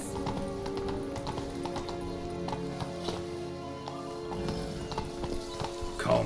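Roach the horse in The Witcher III gallops with rapid repeated hoofbeats set against in-game music and ambience, with no talking.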